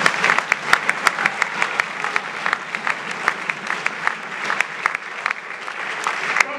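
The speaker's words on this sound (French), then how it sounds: "Je demandais plutôt d'applaudir pour le président Félix." An audience applauds for the president, close and lively, with distinct individual claps rising out of a steady crowd clapping throughout.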